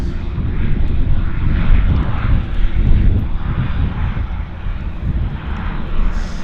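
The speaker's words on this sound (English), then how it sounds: "Beach 1900 landing nicely." A Beechcraft 1900 twin-turboprop landing at Vancouver airport, its steady engine and propeller roar loud and close, swelling and easing slightly over several seconds with no talking.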